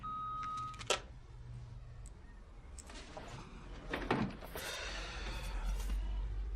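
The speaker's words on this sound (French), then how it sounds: "vous pouvez laisser un message après le bip" A single steady electronic tone sounds briefly, followed by clicks, shuffling and handling noises, with faint background hum throughout.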